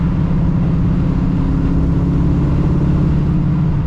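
A 1985 Chevrolet El Camino fitted with an LS3 engine accelerates on the road, its engine a steady, loud, close rumble with constant road noise throughout.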